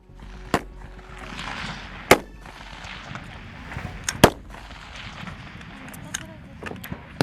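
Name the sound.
M16A4 rifle firing in semi-automatic mode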